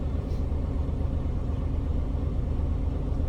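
A commercial truck engine is held at about 1,000 RPM during an in-cab inspection. It gives a steady, close, low rumble with no pauses.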